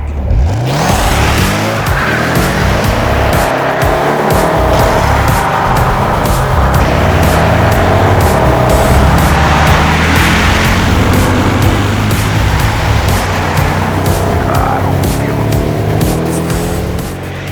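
Mercedes-Benz SL55 AMG with a 5.5 liter supercharged V8 driving hard, a loud, close engine roar rising and falling through gear changes with tire squeal, sustained throughout.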